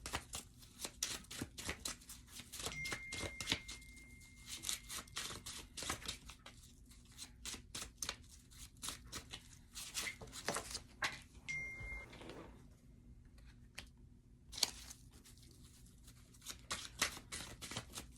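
Tarot cards are shuffled at length for a card draw, a steady rapid riffling and flicking of cardstock with brief pauses, close and fairly quiet, no talking.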